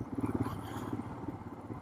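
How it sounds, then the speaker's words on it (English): A Royal Enfield Himalayan motorcycle's single-cylinder engine idles with a low, steady thumping pulse, close by and moderately loud, with no voices over it. "That nice thumpy engine sound, the way the bike feels."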